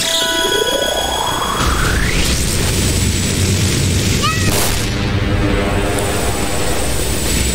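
A fire bomb goes off in the video game Bokurano Daibouken III: a whistling tone climbs steadily, then a sharp booming burst hits, all over busy, continuous game sound.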